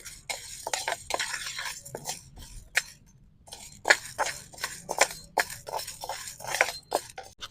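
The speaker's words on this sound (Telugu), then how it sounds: "ఇప్పుడు మనము పచ్చిశనగ పప్పుని కొంచెం ఒక టూ టేబుల్ స్పూన్ ఇలా వేసేసుకుందాం వేసేసుకొని వేయించుకుందాం" Raw chana dal frying in a hot pan, with steady crackling, stirring scrapes and light clinks of a utensil against the metal, close up and continuous with no talk.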